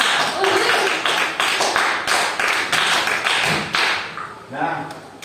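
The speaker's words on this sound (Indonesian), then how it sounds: "tepuk tangan buat anak-anak semua" Children in a classroom applaud in several bursts of brisk clapping, loud and close, fading in and out with short pauses between rounds.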